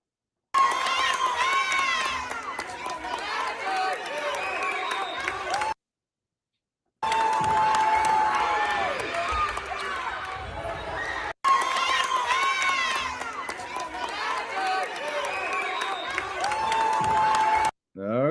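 A crowd cheering and shouting in a busy, noisy space, loud and continuous in three long stretches separated by brief silent cuts.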